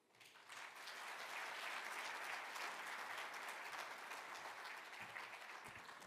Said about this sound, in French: merci de l'applaudir encore, mesdames et messieurs